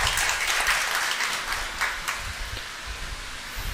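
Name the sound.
applause welcoming guests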